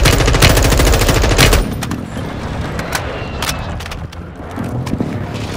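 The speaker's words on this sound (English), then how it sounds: "I'm getting shot from ATC tower as this guy is just looking" Gunfire in Warzone 2: a loud, rapid automatic burst rattles for over a second, then sharp, scattered single shots and short bursts crack at varying distances over quieter background noise.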